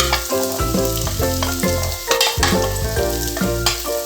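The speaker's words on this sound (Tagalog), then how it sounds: "nilalagay ay ang ginger. Sunod natin ang ating bawang." Ginger and garlic sauté loudly in a pan of hot oil for tinola chicken soup, a dense close sizzle with repeated stirring scrapes and bursts of crackling, no voices.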